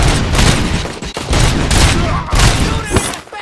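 Rapid bursts of gunfire from the video game RoboCop: Rogue City crackle loudly in several clustered volleys with brief gaps, while a voice shouts over the shooting.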